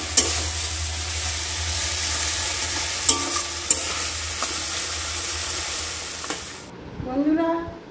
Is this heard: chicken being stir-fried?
yes